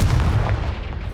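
A Confringo spell blast in Hogwarts Legacy, a loud booming explosion with a heavy low rumble that hits at once and slowly fades, with no voices over it.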